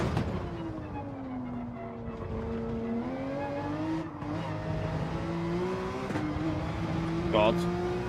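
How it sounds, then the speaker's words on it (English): A Porsche race car in Gran Turismo 7 at Fuji revs and shifts through gears, the engine note rising and falling with a brief tyre squeal, while someone talks over it. "that corner feels horrible in this Porsche"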